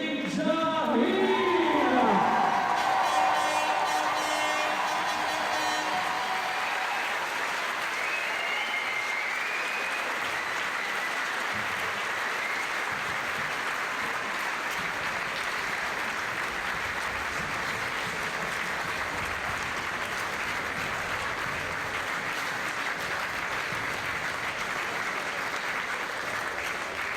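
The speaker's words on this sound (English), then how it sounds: "Applaudissements s'il vous plaît pour les filles." A crowd at a women's lead climbing World Cup final in Valence cheers and applauds in a long, steady roar of clapping, with an announcer's amplified voice briefly at the start.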